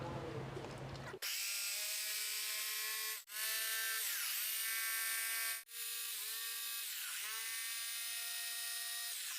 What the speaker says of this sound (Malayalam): ആദ്യം തന്നെ ഇങ്ങനെ ഒരു ഡ്രില്ല് അടിച്ച് കൊടുക്കുന്നുണ്ട്